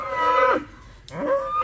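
A bull on a farm penned with sheep gives two loud, close moos, the first long and falling, the second shorter after a brief pause, with no talk.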